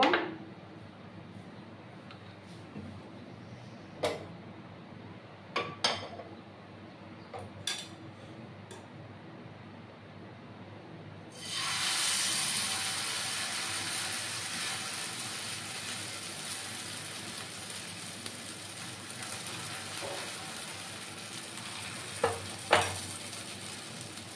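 Frying an atta snack in a pan: a few sharp utensil clinks over near silence, then fresh oil hits and a loud, steady sizzle takes over and continues, broken by occasional taps.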